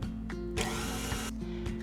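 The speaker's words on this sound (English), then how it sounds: "We're going to turn our mixer back on and let it run again for about 30 seconds or so." A stand mixer churning cookie dough gives a close, steady mechanical whir with gear-like rattling and a louder, rougher surge partway through, with no talking.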